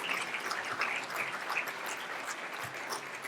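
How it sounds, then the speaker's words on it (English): Sustained applause from an awards-ceremony audience, a dense even wash of many hands clapping at moderate distance, with no voice over it. "round of applause for Samantha."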